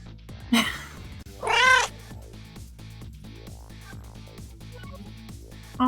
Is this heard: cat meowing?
yes